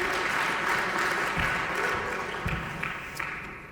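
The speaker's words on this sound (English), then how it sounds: "Give her a round of applause." Sustained applause from a conference audience for a presenter, a steady wash of clapping that fades slightly toward the end, heard alone without talk.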